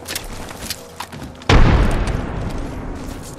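A frag grenade in Apex Legends goes off with a sudden loud booming blast that rolls and decays over the following seconds, after quieter game sounds beforehand.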